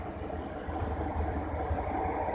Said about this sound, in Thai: ขบวนนี้คันดีเซลไฟฟ้า ดีเซลเนี่ยก็จะจอด แล้วก็สตาร์ทเครื่องไว้นานๆ